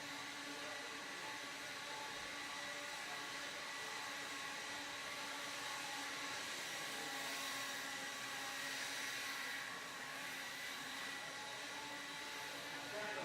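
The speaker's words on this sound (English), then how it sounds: "Marshall grab those blowers. Start blowing off the track." Track blowers roar continuously as they clear debris off an RC car racing track at a desert race event, a steady broadband whoosh that holds the same level throughout, heard at a distance with no talk.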